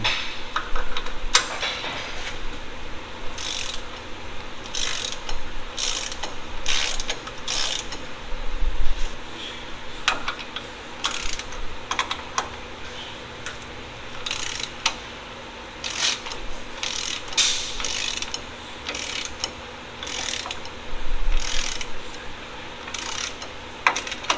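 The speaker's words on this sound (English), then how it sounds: "The next step is to loosen up the lower links." A hand ratchet clicks in quick repeated bursts while loosening the 19 mm lower link bolts on a third-generation Toyota 4Runner during a Dobinson lift kit install. The sound is close and mechanical over a steady low hum, with no talking.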